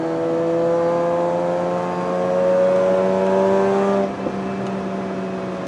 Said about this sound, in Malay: Selebihnya anda akan follow saya membakar karbon Mazda race ini.